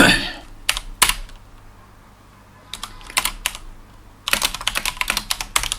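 Code is typed on a computer keyboard in scattered clusters of close, crisp keystrokes, pausing for a stretch before a fast, continuous run of typing at the end.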